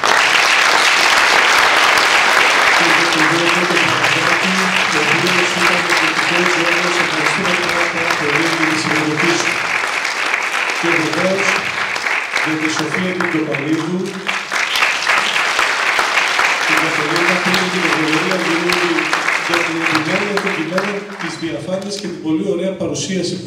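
An audience claps steadily after a choir concert, the applause holding loud throughout while someone speaks over it at length, his voice rising and pausing above the clapping.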